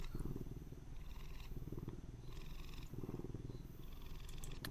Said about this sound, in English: I didn't hear the purring before because I never approached it when it was on the welcome mat.